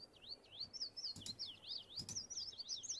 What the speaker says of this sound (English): Oh, and I hear the warbler sound.